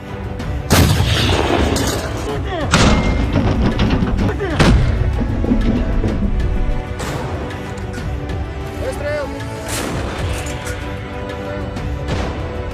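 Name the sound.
self-propelled artillery firing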